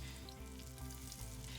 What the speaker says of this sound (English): our grease is ready to go, so I'm just gonna start throwing the okra in there